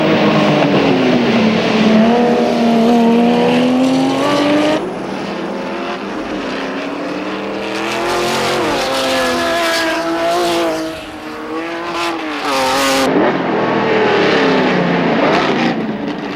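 Classic Ferrari and Ford race cars duel at the 1989 Grand Prix de l'Age d'Or, engines roaring loud and close, pitch climbing and falling through gear changes as cars sweep past in successive passes.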